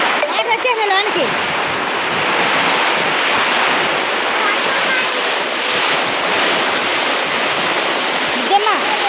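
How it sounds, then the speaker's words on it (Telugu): Storm water surges into a house during a sudden cyclone, a loud, steady roar of rushing water and wind that fills the whole stretch, with a voice briefly heard at the start. "వాటర్ వచ్చేసాయి లోనికి"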